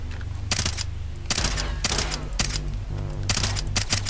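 Rifle fire in Far Cry 3: about five sharp, close shots or short bursts spaced roughly every half second to second, each cracking loudly over low background game hum.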